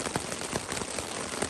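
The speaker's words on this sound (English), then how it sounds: "Been looking like it could rain all day. Guess it's here." Rain falls steadily at a mountain campsite in the Wind River Range, Wyoming, a dense even patter of drops close by with scattered sharper hits, and no voices.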